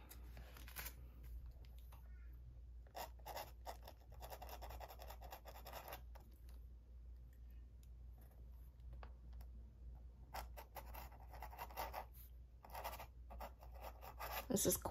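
A fine dip pen nib with Diamine Earl Grey ink scratches across paper in short, faint strokes with brief pauses, very quiet and close, with no talking.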